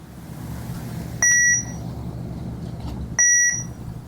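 A Tobot Adventure Terracle T toy robot in metal detector mode gives off two short, bright electronic beeps about two seconds apart, close by and alone over a faint background hiss.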